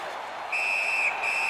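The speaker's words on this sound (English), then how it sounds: "A whistle and a rest." A referee's whistle in the NHL 17 hockey video game blows as a sustained shrill tone over crowd and arena noise, with a short break partway through before it sounds again.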